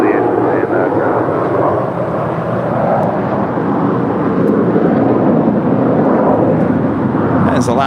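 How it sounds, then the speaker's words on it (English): An Alaska Airlines Boeing 737-800 crossing a runway at LAX gives a loud, steady jet engine roar throughout, with a voice talking over it. "As Alaska Airlines Flight 267 coming in from Cabo, it's a 737-800"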